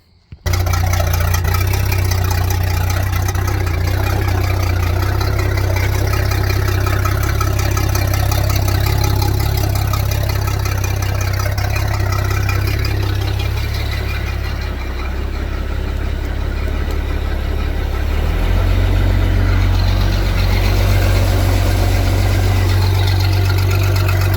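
An 85-foot Wellcraft boat's engine idles steadily for a long stretch while drawing in antifreeze for winterizing, a constant low rumbling drone with slight shifts in pitch, no voices.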